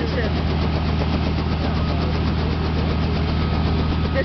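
A Robinson R44 helicopter sits running on a model airplane field, its engine a loud, continuous low drone with a steady pulsing texture throughout.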